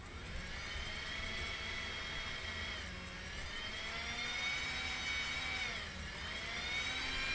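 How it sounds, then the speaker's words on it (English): A small electric motor soldered to a battery runs steadily, a close, constant high-pitched whine with a faint rise and dip in pitch, and no talking. "I'll just test the motor."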